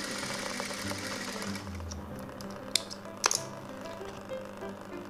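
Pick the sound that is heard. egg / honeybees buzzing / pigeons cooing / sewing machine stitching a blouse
sewing machine stitching a blouse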